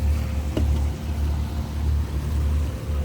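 A sailboat motors under engine power among the Whitsunday Islands, a steady low drone of the engine mixed with wind buffeting the microphone, constant and fairly close throughout.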